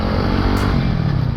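A Skygo Magnus 200 motorcycle engine runs close by, a loud continuous throbbing rumble with a clattery edge, heard alone with no speech.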